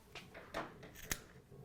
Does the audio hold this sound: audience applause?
no